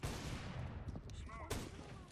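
Gunfire in Counter-Strike: Global Offensive, a dense rattle of shots with sharp cracks near the middle, loud and close, mixed with game ambience and a voice in the background.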